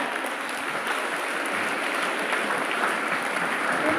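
Students at a school maths club inauguration break into loud, dense applause after a correct answer, a continuous wash of clapping held at steady strength throughout.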